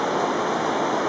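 Bright Angel Creek in the Grand Canyon, beside the North Kaibab Trail, rushes in a steady, dense broadband wash of flowing water, close and continuous with no voices.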